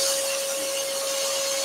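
A scroll saw cuts a tree shape out of wood for a lantern, a steady, close, continuous buzzing whine holding an even pitch with no pauses.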